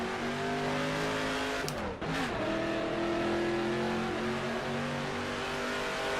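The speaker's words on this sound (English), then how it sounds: "Car sounds glorious" A touring car engine in the video game rFactor 2 roars steadily at high revs, dipping briefly as it shifts or brakes before climbing again, loud and close.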